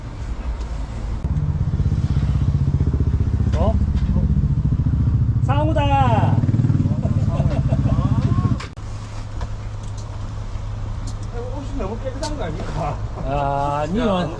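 A KTM 790 Adventure R motorcycle engine idles and runs steadily close by during a middleweight rally training ride, its drone sustained throughout with a slight drop in level midway while people talk and laugh over it.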